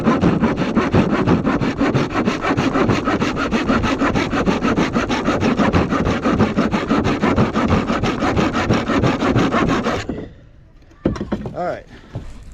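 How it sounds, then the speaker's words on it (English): Handsaw rasps rhythmically through plywood in quick, close back-and-forth strokes for about ten seconds, then stops, followed by a few faint handling sounds. "There's ain't nothing wrong with using a little handsaw every once in a while."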